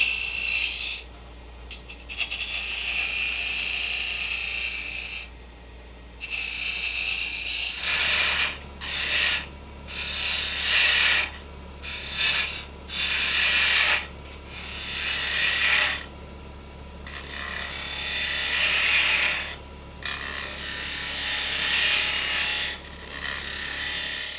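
A wood lathe shapes the foot of a turned wooden Roman canteen, with a steady motor hum under bursts of scraping and rasping as the tool cuts, broken by brief pauses.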